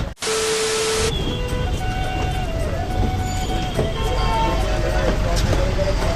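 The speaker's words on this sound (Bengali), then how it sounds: "চলো গাইস এই বাসটাতে ওঠা যাক" Riding a crowded bus: steady engine drone and road rumble with rattling and broadband noise, a sharp hiss near the start, and people talking over it throughout.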